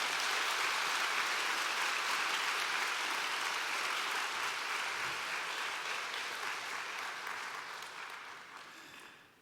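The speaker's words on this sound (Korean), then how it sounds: "큰 박수 부탁드리겠습니다" A church congregation applauds together during a Korea–Japan mission service, a dense, steady roar of many clapping hands that fills the room and gently fades away at the end.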